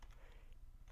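Close, quiet clicking of computer keys as a search term is typed into a search bar, a quick run of keystrokes over steady low background hum.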